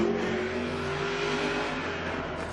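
A car engine from Top Gear USA, steady and loud, a continuous throaty drone holding at an even level throughout with no voices over it.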